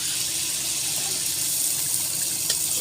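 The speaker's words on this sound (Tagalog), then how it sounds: "Yung pinagkuluan sa manok, ilalagay natin." Chicken broth left from boiling chicken pours steadily into a cooking pot for creamy sopas, a continuous close watery gush with no talking.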